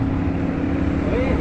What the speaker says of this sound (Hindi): अभी 2 बाइकर्स गए, अभी गए 2 बाइकर्स।